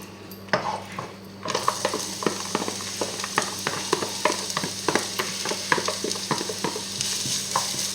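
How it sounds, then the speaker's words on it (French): Onion sizzling in a hot pan for a leek tart, starting quietly, then breaking into a steady close sizzle punctuated by repeated scraping stirs of a utensil, with no talk. "d'abord je fais frémir mon oignon."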